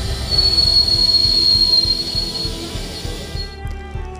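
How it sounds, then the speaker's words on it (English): A train brakes to a stop on the railway in Tripura, with heavy rumbling wheels and a long high metallic squeal that fades as the rolling slows and quiets near the end. "The train finally stopped."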